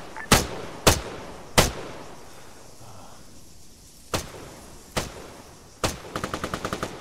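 Gunfire in a video game battle: several loud, isolated single shots spaced about a second apart, followed by a quick rattling machine-gun burst at the end, close and crisp over faint background ambience, with no talking.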